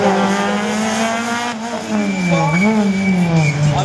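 A Peugeot 206 race car runs a slalom course at Agon-Coutainville in 2019, its engine droning close by and climbing and dipping in pitch as the driver works the throttle through the gates.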